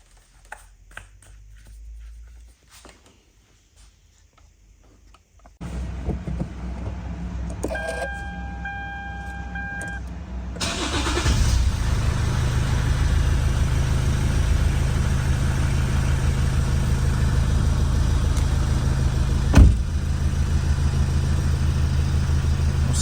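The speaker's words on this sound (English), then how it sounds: "then you can try starting the car." Diesel engine of a 2009 Lexus IS220D cranks and catches after quiet clicks and rustling, then settles into a steady, fairly loud idle that runs on without talk.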